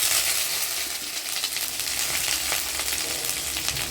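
Loud, dense sizzling and crackling of mustard seeds and dried red chillies frying in hot oil, continuous and close, with no talking.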